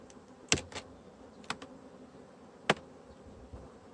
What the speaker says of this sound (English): we got another little bee on the top of that honeybee